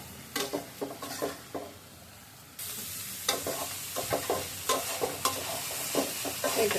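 Food fried in a pan with turmeric is stirred with repeated scraping strokes over a soft sizzle, the rhythmic stirring pausing briefly before the frying hiss swells louder and the stirring resumes.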